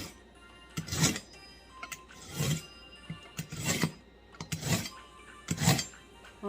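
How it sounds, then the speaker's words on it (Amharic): A kitchen knife is honed on a small sharpening stone while preparing Ethiopian Gurage kitfo, giving five loud, evenly spaced rasping strokes about a second apart, each a broad gritty scrape, with no talk. "ኦኬ ቢላዋችን በደንብ ተስሏል"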